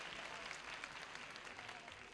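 Applause from a large audience at a 1981 concert at Estadio Obras, a dense, steady clatter of clapping that fills the whole stretch at moderate loudness.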